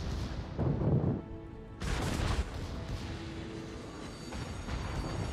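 Booming naval gunfire in World of Warships from the battleship Friedrich der Große, heavy blasts in bursts with a sustained rumble and crackle between them.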